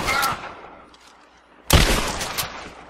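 Gunfire in Rise of the Tomb Raider: a short burst of shots at the start, a pause, then a louder, sharper volley with a booming crack that echoes and trails away.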